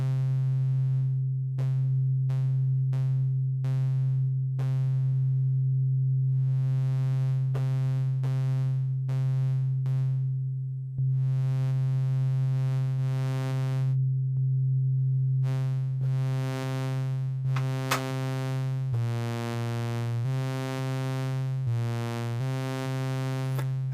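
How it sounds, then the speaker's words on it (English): A Eurorack synthesizer oscillator holds a steady low tone while an envelope crossfades it from a pure sine toward a bright, buzzy sawtooth in a series of rhythmic pulses, unfiltered and alone without speech. "I'll start with a sine wave and have the envelope go to the sawtooth."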